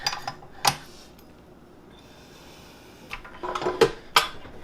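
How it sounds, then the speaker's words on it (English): A paddle attachment fitted onto a stand mixer holding butter and cream cheese: a few sharp metallic clicks and clanks, one early and a cluster near the end, with a quiet pause between. "I'm going to stick the paddle on"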